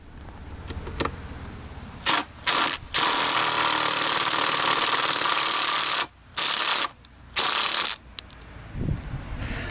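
Power tool runs in loud sustained bursts while carriage bolts are backed out of the wheel assembly on an industrial cart table, with short pauses between runs and clanking handling sounds at the start and end.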